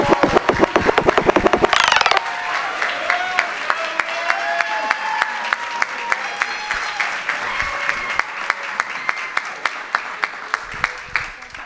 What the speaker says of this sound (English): So please give a round of applause for Liz Casera.